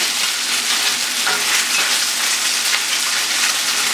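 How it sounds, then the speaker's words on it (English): Tofu sizzles in a hot pan as it browns, a loud, steady, rain-like crackle of frying that runs without a break and with no voices. "Then you want to cook the tofu so that it's golden brown."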